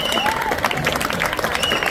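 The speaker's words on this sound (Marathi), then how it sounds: "एका जोरदार टाळ्या होऊन जाऊ सगळ्यांसाठी" A short burst of crowd applause breaks out in a Mumbai chawl, brisk clapping from a group of people, with voices mixed in.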